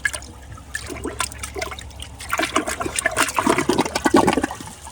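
A Glacier Bay high efficiency toilet flushes under test, a loud close gush of water that swells into churning, rising bowl water with trickling and gurgling toward the end, no voices.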